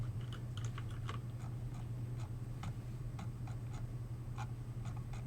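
Light, irregular keyboard taps and scratchy writing strokes sound over a constant low electrical hum in a quiet study room, faint and close, with no talking.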